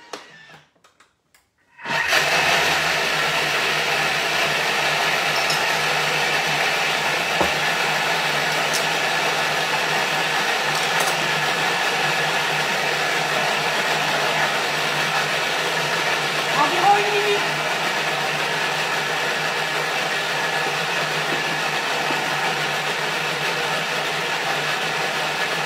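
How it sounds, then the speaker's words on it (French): A food processor pulverizes mustard ingredients at speed 8, starting abruptly after a brief silence and running as a loud, steady whirring roar that continues unbroken to the end. "Et là, on est parti pour pulvériser ça en vitesse 8."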